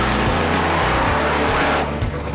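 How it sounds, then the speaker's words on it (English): A hot rod's engine runs loud and close, a dense rumbling roar holding steady before easing slightly at the end, with no talk. "Engine sounds good, huh, Dwayne?"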